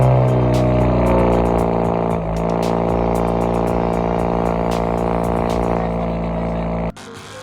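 A modified 2019 Chevrolet Camaro RS with a four-cylinder engine drones loudly and steadily nearby with a slight dip midway, then cuts off abruptly near the end.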